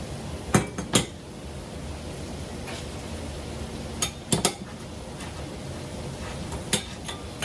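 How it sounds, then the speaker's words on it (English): Beef pressed down into glass canning jars, a few sharp clinks of utensil on glass at irregular intervals over a quiet room hiss. "So yeah, you want to smash it all down in there."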